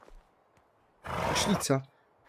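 A small donkey in the video game Medieval Dynasty lets out a loud, rough braying call of about a second, rising out of a quiet background with faint soft sounds around it.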